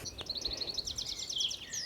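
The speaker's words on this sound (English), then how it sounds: "You can hear a wren in the background" A wren's rapid, high trilling song runs through the clip, fairly faint and distant, a fast string of bright notes over quiet background.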